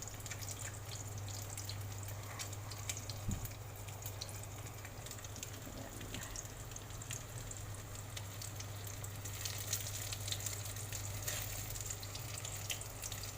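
Steady, crackling sizzle of an eggplant omelette frying in a pan with oil, continuous and close, with a low hum underneath and no talking.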